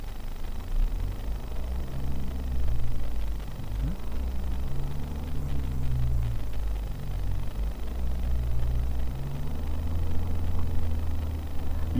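A vehicle engine held in low gear hums steadily on damp grass as a little power goes in, a muffled mid-pitched drone that stays close and even throughout, with no talking.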